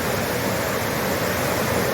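A jungle waterfall near Luang Prabang pours with a steady, dense roar of rushing water, close and unbroken, with no voices over it.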